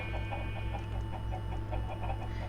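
Minecraft chickens cluck in short repeated bursts over a steady low hum, with a synthetic, game-like quality and no talking.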